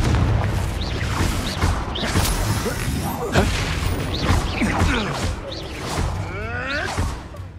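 Confringo blasting-spell explosions and other spell effects in Hogwarts Legacy, a busy, loud stream of bursts, whooshes and crashes with swooping magical tones, overlapping continuously throughout.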